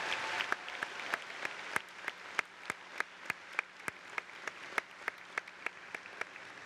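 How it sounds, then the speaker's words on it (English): Audience applause at a 2024 Pittsford Mendon High School graduation for the concert choir, heard as a thin, fairly distant patter of clapping with several sharper individual claps standing out in an irregular rhythm, steady throughout with no voices. "Can we please have a round of applause for the members of our Mendon High School Concert Choir"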